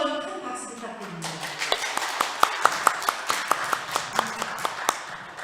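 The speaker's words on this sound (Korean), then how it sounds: "다시 한번 큰 박수 부탁드립니다." A church congregation gives a round of applause, rising into a rhythmic burst of steady claps at moderate distance while a voice speaks over the start.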